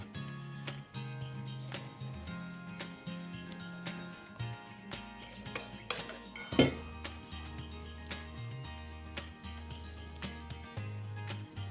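Dry ingredients are worked into a purple yam (ube) cake batter, with light clinks and taps of a utensil against the bowl at irregular intervals, fairly faint beneath a steady tonal background.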